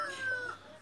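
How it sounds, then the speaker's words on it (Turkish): A rooster in a village crows in a single drawn-out call, thin and fairly distant, heard alone against a quiet background. "Horozlar da çok güzel ötüyor."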